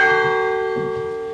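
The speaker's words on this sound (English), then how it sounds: "Ring the bells." A set of church bells rings out in a steady, sustained peal, bright and resonant, with overlapping tones that hang in the air and slowly fade, heard alone without voices.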